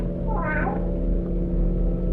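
A single short cat meow rises briefly in a graveyard at night, heard over a steady low hum.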